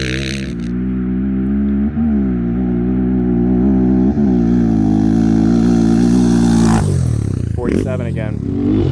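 Honda 400EX quad with a big bore and cam, a loud close engine roar that climbs and holds at high revs, then breaks into a rough, sputtering burst near the end as the launch falters.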